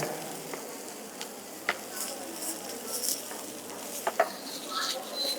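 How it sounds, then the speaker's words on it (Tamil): Vegetables with salt being stirred in a frying pan on the stove for millet noodles, a faint low sizzle with scattered light scraping and clinks of the spatula against the pan. "ஸோ இந்த மாதிரி நல்லா மிக்ஸ் பண்ணிக்கோங்க"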